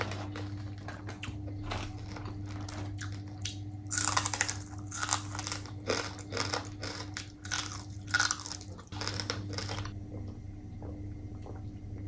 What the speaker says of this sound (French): Vous attendez, donc comment ça croustille là.